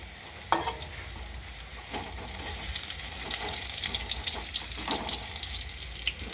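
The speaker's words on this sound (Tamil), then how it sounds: "நல்லா வதங்கட்டோங்க." Food sizzles as it is sautéed in a hot pan, with a constant frying hiss and intermittent scraping stirs of a spoon, growing slightly louder toward the end, up close.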